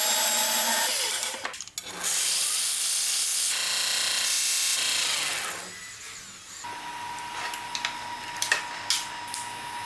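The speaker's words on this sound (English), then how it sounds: "drilling the holes now" A power drill bores holes into a part of a 32ft gooseneck enclosed car trailer during refurbishment, its loud grinding whine running almost continuously with brief pauses and scraping bursts near the mic.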